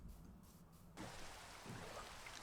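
Steady rain falls in Minecraft, a continuous hiss of drops that thickens partway through and stays even with no voices over it.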